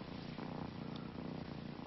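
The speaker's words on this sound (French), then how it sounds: "Toi, tu ronronnes." Cat purring steadily up close, a soft continuous rumbling purr with no voices over it.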